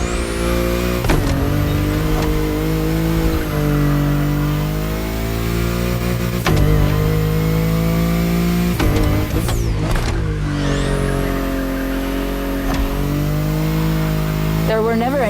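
A BMW i8 sports car driven in The Crew Motorfest, its engine droning loud and steady, with the pitch climbing and dropping sharply at gear shifts while a voice narrates over it.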